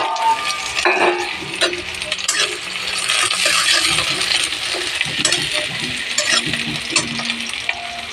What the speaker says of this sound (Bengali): পেঁয়াজগুলো লাল লাল ভাজা হয়ে গেছে।